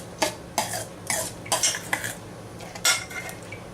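Spoon clinks and scrapes against a bowl while bread is mixed into beaten egg for little bread fritters, several sharp clattering strokes in an uneven rhythm, close and fairly loud, with no talking.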